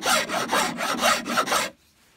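Woodworker's rasp filing wood in firm back-and-forth strokes, six rapid, loud, rough scraping passes in an even rhythm, close up, stopping abruptly into quiet.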